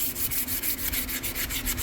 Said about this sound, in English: I'm also using some wet sandpaper, aluminum oxide, 220 wet or dry.